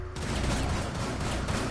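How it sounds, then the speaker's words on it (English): Dense, loud blasts of shotgun fire in a first-person shooter, packed tightly together with no talking over them. "Oh, he's using his shotgun."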